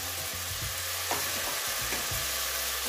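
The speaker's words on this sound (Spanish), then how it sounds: "vamos a dejarlo que se nos sofríe todo junto" Finely chopped fennel and other vegetables sautéing together in a pan, a soft continuous sizzle with occasional light stirring scrapes, close and moderately quiet.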